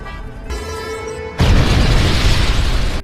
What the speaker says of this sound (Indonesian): Setelah ledakan